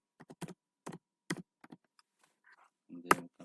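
Short bursts of typing on a computer keyboard, a few quick key taps grouped in small clusters with pauses between, followed by a single sharper keypress near the end.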